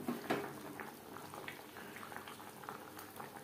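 Fish and potato curry simmers in a pot with fried fish, fish head and gravy, giving soft, continuous bubbling with small irregular pops, quiet and close, with no voices.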